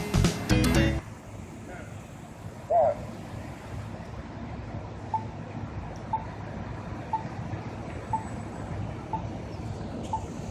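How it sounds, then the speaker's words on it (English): A pedestrian crosswalk signal in Savannah, Georgia, sends out short faint beeps at a steady, regular pace over a quiet outdoor street with light wind. "That is the sound of the crosswalk"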